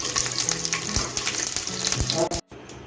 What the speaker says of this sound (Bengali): এখন আমি রসুনগুলো বেঁধে নেব